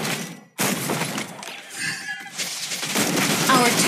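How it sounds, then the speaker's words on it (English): A turret blown apart in a video game, bursts of shattering and gunfire-like crashes filling the mix, with a brief gap of silence early on and a character's voice speaking over the loud, dense battle noise. "Our turret has been destroyed."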